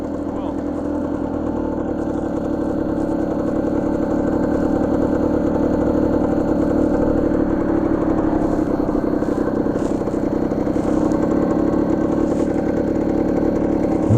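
A 1968 Yamaha DT1 250cc Enduro motorcycle idles with a steady, loud, buzzing two-stroke drone that holds throughout, while voices talk over it.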